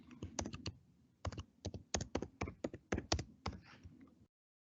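Password typed on a computer keyboard: quick bursts of crisp key taps in short irregular runs, close and clear, with no voices.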